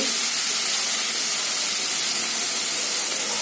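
Small-cut potatoes and pointed gourd sizzle in hot spiced oil in a pan, making a loud, steady, close hiss that continues evenly without a break and with no talking.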